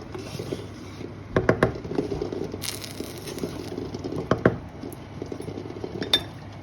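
Metal clinks and clatters from a cooking pot of chicken pulao as a lid is handled and set down, with several sharp knocks among softer scrapes, close and fairly loud.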